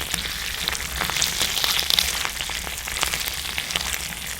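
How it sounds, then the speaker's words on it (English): Food sizzling on top of a hot tent portable wood stove, a close, continuous crackling fry with dense irregular pops and spits and no voice. "Fire raging inside, sizzling outside."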